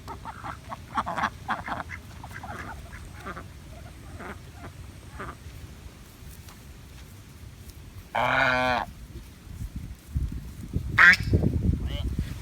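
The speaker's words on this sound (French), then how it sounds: "Il y a des canards là, Lan? Oui, il y en a des canards." Ducks quacking beside the Pangalanes canal in Madagascar: a few loud, nasal quacks up close, heard along with croaking frogs and outdoor ambience, while people talk nearby.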